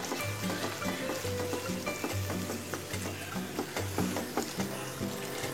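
Yogurt fish curry (doi katla) being stirred in a pan over a low flame, a soft continuous bubbling sizzle with regular scraping and tapping of the spoon close by.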